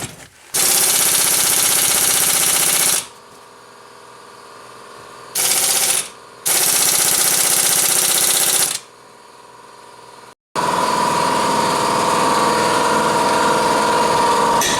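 A powerful impact gun working a stuck bolt on a Nissan Rogue during a CV boot job hammers loudly and up close in three long bursts, with short pauses between them and a steady hum through the gaps.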